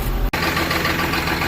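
A farm tractor fitted with a front loader idles steadily, a loud low engine rumble with an even throb, briefly dipping for a split second before carrying on unchanged.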